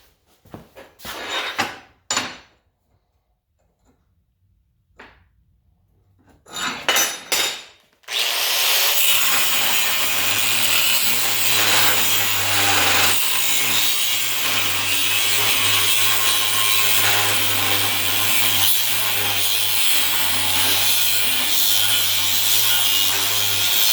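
Flat bar steel is cut for rust repair: a few short rasping bursts come first, then a long loud unbroken grinding cutting noise with a steady low hum underneath.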